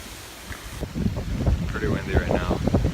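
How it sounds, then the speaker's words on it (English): Strong gusting wind from Hurricane Matthew buffets the microphone over water, a loud rumbling roar that builds and stays heavy, with a voice talking partly beneath it. "Pretty windy right now."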